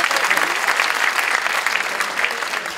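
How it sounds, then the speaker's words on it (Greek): A concert audience claps warmly for a member of a bouzouki orchestra, the only woman in the group, a dense sustained ovation filling the hall with no clear talk over it. "Και θα παρακαλούσα ένα λίγο πιο θερμό χειροκρότημα για τη μοναδική γυναίκα της ορχήστρας."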